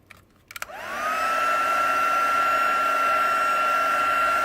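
Hair dryer blowing on a tissue paper flower, starting after a few brief handling clicks and then running as a steady, loud, continuous whine with a rising pitch that settles and holds close by.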